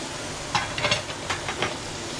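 Onions drop into hot melted butter in a pan, giving a loud hissing sizzle with a few sharp crackling bursts over a steady steamy background; no talking.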